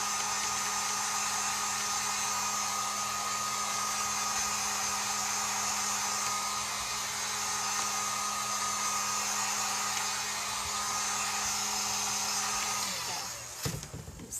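A hair dryer drying painted pumpkin home decor blows a loud, constant whirring rush for about thirteen seconds, then cuts off abruptly with a brief clatter.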